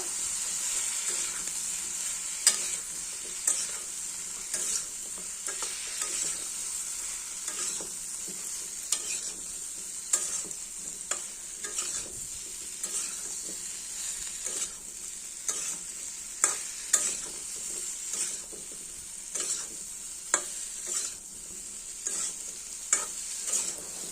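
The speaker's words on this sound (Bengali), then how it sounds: "দিয়ে দিচ্ছি হলুদ গুঁড়ো। ভালো করে এবার কষিয়ে নেব।" Leafy greens with salt and turmeric powder stir-frying in a pan, a steady bright sizzle with scattered scraping clicks of a spatula stirring throughout, close and continuous with no talking.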